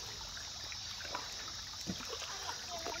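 Shallow creek water trickles steadily around a chair set in the stream at a campsite, a faint continuous babble with a few soft splashes and drips close by.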